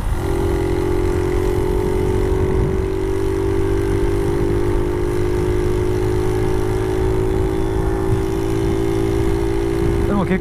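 A Honda Magna 50 motorcycle with a modified air cleaner, its small engine droning steadily and close while being ridden, with wind rush throughout.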